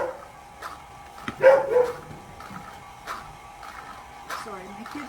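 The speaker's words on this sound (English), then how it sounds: "the dog's just letting me know that there's people coming in the back gate" A household dog barks at people coming in through the back gate, giving a few short, sharp barks at moderate distance with quieter whimpers between them and faint voices in the background.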